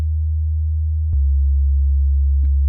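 A steady, deep sub-bass synth tone holds alone, dropping slightly lower partway through, with a faint click at the change and another near the end.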